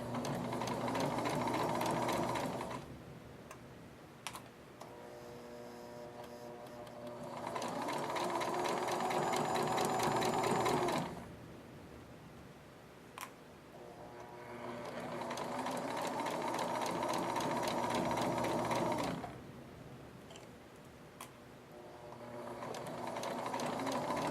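Sewing machine stitching fabric in a classroom, running in three long bursts of steady mechanical whirring with short quiet pauses between, close and moderately loud.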